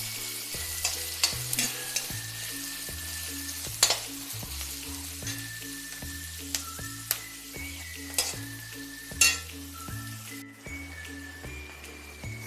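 Chopped onions sizzle and fry in two teaspoons of hot coconut oil in a pan, a steady crackling hiss with a few sharper pops and spoon clinks as they are stirred.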